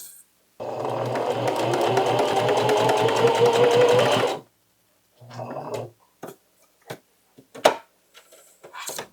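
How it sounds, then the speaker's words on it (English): A sewing machine runs in one steady burst for about four seconds, stitching the side seams of a hem facing in heavier fabric, then short handling clicks and rustles follow. "Sew side seams of the hem facing"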